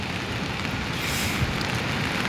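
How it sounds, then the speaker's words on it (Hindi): Heavy rain falls steadily on a Himalayan hillside village with a swollen river nearby, a dense, continuous wash of noise at close range with no voices. "बारिश पड़ रही है इस वक्त"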